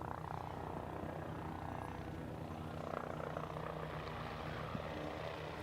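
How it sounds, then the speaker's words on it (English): A helicopter used for parachute jumpers hovers at the SUN 'n FUN Aerospace Expo, giving a continuous, fairly loud rotor and engine drone with a steady pulsing throb throughout. "In front of AeroShow Center right now, you will see we are recovering our Jumpers helicopter."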